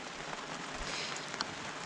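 Rain falling steadily outdoors on a wet garden with ducks and frogs, a dense continuous patter with a few closer drops.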